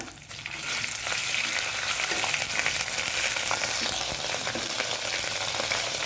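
Onion and ginger fry in hot oil for a spicy Maharashtrian dal amti, giving a loud, steady, dense sizzle that runs unbroken for the whole stretch with no one speaking.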